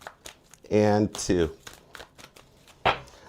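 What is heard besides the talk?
tarot cards being shuffled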